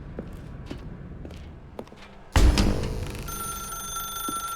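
A telephone rings in The Stanley Parable, an old-style bell trill that cuts in loudly after soft footsteps and keeps ringing steadily in a small room.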